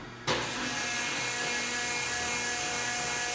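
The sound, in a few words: metal lathe gears shifting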